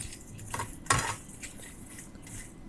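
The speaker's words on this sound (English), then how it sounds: "Now add white pepper with salt. Mix it well again." Roasted lotus seeds being tossed with white pepper and salt in a metal pan, a few light clinks and scrapes of a spoon against the pan, one sharper clatter near the middle.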